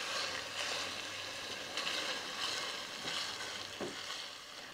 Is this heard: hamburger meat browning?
yes